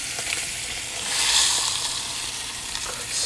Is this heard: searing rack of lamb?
yes